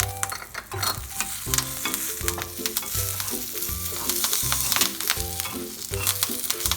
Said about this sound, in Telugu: ఇప్పుడు కాసేపు ఒక 2 మినిట్స్ వీటిని వేయించుకున్నాక కరివేపాకు వేసుకోవాలి.